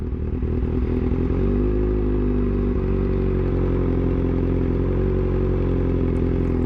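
A modified Honda CBR 1000RR-R superbike rides off with its engine droning loud and close, revs rising and shifting steadily.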